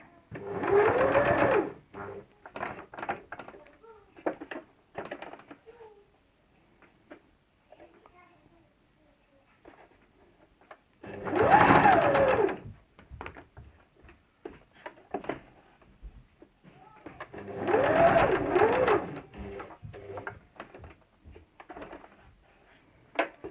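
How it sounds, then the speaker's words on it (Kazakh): A sewing machine stitches a 1 mm seam allowance on a Kazakh patchwork quilt, running in three loud, steady bursts of a few seconds each, with quiet pauses and faint handling noises between them. "араға припускный шов 1 миллиметрде тігіп аламыз"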